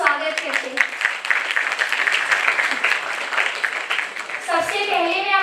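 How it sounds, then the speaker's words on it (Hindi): An audience applauds to welcome a speaker at a talk event, loud sustained clapping throughout with a voice speaking over it near the end. "आइए तालियों के साथ, गड़गड़ाहट के साथ हम स्वागत करते हैं"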